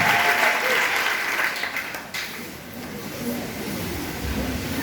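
A church congregation at a worship service bursts into loud, sustained applause, a dense wash of clapping that carries on for several seconds with voices mixed in.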